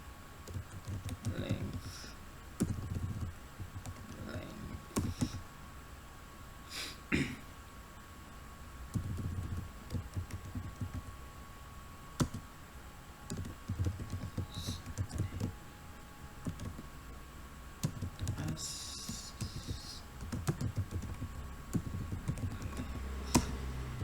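Typing on a computer keyboard, irregular runs of close key clicks and taps with pauses between bursts, under intermittent soft talk.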